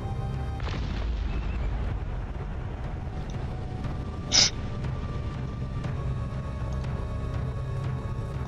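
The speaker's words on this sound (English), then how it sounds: "Might as well just destroy these nearby mines." Mines are destroyed with a single sharp explosion in the real-time strategy game Cossacks: Back to War, a bright, brief blast standing out midway over steady background battle ambience and music.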